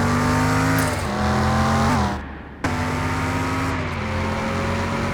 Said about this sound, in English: Cool hearing that blow-off valve going.